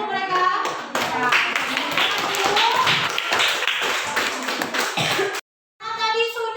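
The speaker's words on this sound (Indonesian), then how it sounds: "Kasih aplaus dulu untuk mereka" A classroom of students claps for classmates' finished project work, a dense burst of many hands applauding for about five seconds, then a brief silence before young voices speak.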